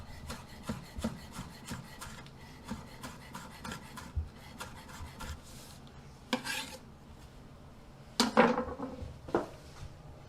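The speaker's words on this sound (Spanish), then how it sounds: "Acabamos cortando un poco de cebollino." Knife chopping chives on a cutting board in a kitchen, heard as a quick run of soft, close taps and scrapes, then a pause and a few louder scraping strokes near the end.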